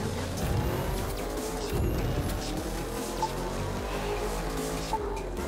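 A car driven over hilly terrain in the racing game The Crew 2, a steady engine drone with rumbling tyre and road noise that stays close and loud throughout, with a few brief knocks.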